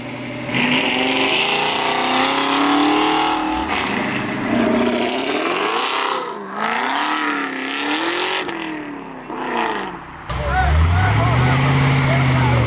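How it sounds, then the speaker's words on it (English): Ford Mustang Mach 1 leaving a cars and coffee meet, its V8 revving hard and rising through gears as it accelerates away, loud and close at first then fading, with people talking and cheering over it. "We got the Mustang Mach 1 leaving right here"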